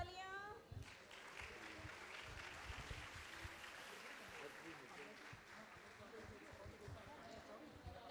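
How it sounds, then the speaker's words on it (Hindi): Loud, sustained applause from an award-ceremony audience, dense clapping running steadily throughout with some voices mixed in. "जोरदार तालियां"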